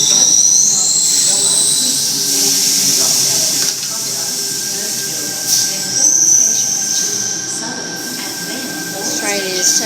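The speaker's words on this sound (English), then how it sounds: "This train will be terminating here and will turn back to Cronulla." A Sydney Trains service pulls in to terminate at Sydenham, its wheels squealing in high drawn-out tones over a loud hiss and rumble, with a voice briefly heard amid the noise.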